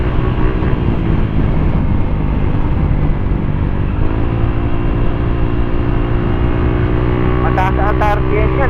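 A Honda ADV160 scooter engine held at high RPM on a ride, a loud continuous droning whine with steady harmonics that rises slightly midway, heard close and alone with wind rush.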